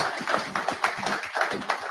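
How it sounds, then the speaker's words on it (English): Applause from a group at a driver meeting, a scattered round of hand claps with uneven rhythm, moderately close and steady for the whole short stretch, with no talk over it. "Let's give Mark a round of applause."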